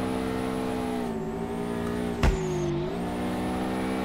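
Steady engine drone of a car held in a long drift in the racing game DRIFT21, with a sustained whining harmonic tone that dips and recovers and a brief sharp crack midway.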